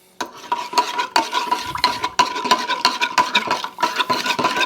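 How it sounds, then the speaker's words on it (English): A spoon stirring monk fruit brown sugar into espresso, a steady run of close clinking scrapes against the cup with a faint ringing tone, continuous and fairly loud with no talking. "You go ahead and you give that a stir"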